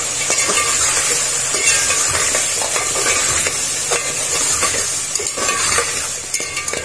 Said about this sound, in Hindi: अब इस तरह से हमने बिल्कुल मसाले को जो है भून लिया। आलू भी भून चुके हैं।